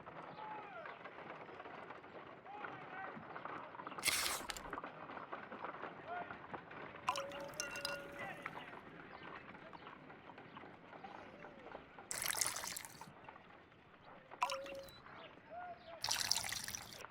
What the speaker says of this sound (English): Let us use a pipette to take a sample of the liquid and fill a test tube.